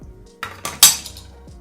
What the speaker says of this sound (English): So I'm just gonna use my knife to cut it open.